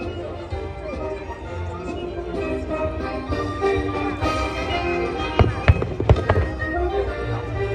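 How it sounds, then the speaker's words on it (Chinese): National Day fireworks show in Chiayi with 3- to 8-inch shells, sounding as a steady roar of launches and bursts that gives way to several sharp booms near the end, with crowd noise and a voice over the top. "看到我们后方已经在烟火释放当中"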